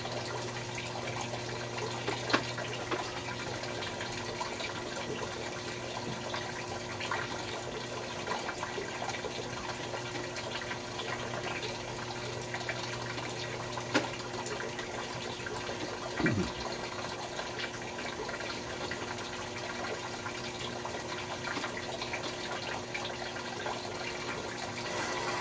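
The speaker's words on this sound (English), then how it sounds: "flush the toilet along with it just to surcharge it and get stuff out of there" Water from a toilet flush runs through a sagging residential sewer pipe during a camera inspection, a steady low rushing and trickling flow with faint occasional knocks, heard alone without voices.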